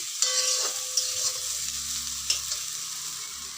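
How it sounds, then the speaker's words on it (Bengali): Chunks of raw banana, potato and soybean sizzle steadily in hot oil, with a few sharp scrapes and clinks as they are stirred, close and fairly loud with no talking. "কাঁচা কলা আর হচ্ছে সয়াবিন একসঙ্গে ভাজছি"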